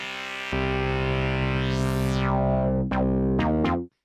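A sustained buzzy, harmonically rich Hydrasynth tone with thin industrial-style distortion and a sweeping filter, then two quick pitch swoops before it cuts off abruptly.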